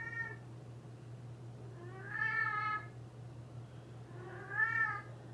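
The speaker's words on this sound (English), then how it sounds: "Meow." An elderly cat meows twice in a kitchen, each a drawn-out, rising-and-falling call a couple of seconds apart, close and clear over a steady low electrical hum.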